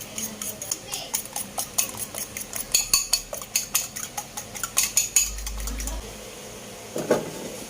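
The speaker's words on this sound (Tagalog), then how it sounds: "Batihin lang o i-scramble" Chicken eggs being beaten for scrambling, a utensil tapping rapidly against a bowl in a steady clicking rhythm for several seconds, close and clear, before trailing off, with speech in places.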